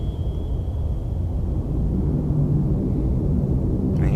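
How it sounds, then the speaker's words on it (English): A patrol aircraft passing overhead in the submarine game Cold Waters, heard as a steady low rumble that swells slightly as it goes by, with no talk over it. "every time the plane passes overhead"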